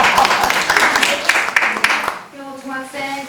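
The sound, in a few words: audience applause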